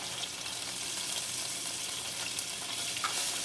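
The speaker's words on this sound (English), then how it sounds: "I'm searing them. Searing the seasoning and flavor in there." Steaks searing in a hot pan for a steak and gravy dinner, a steady loud sizzle and crackle of frying fat running unbroken and close with no talk.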